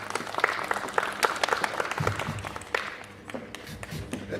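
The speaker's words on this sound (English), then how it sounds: "Let's give her another round of applause" Crowd applause at a Kenyan electoral preparedness event, dense, crackling claps that swell and gradually thin out, fairly close and with no one speaking over it.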